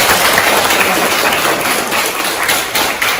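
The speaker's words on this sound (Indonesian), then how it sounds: "kasih tepuk tangan" Students applauding in a classroom, a loud, dense, steady wash of many hands clapping at once, sustained for several seconds without any talk over it.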